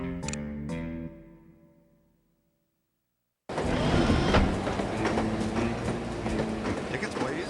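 Rhythmic clickety-clack of a train's wheels on the rails, heard in the video game The Operative: No One Lives Forever. The sound is loud and steady and runs for several seconds, with game music or a chime before it.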